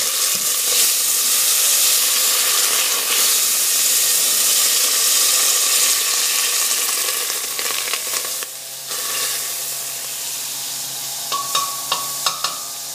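A large spoonful of butter hits a hot pan and sizzles loudly and steadily, a bright hiss that softens slightly near the end, broken by a few small clinks of a utensil stirring.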